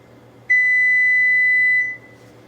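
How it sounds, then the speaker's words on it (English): A kitchen timer gives a single long electronic beep, a loud, steady, pure tone lasting about a second and a half before cutting off, heard alone against a faint background hum. "there's my timer"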